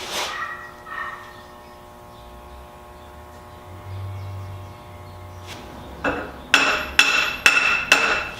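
Hammer tapping a four-link part into place in a shop, starting with a couple of soft taps, then a quick series of four sharp metallic strikes near the end over a low hum.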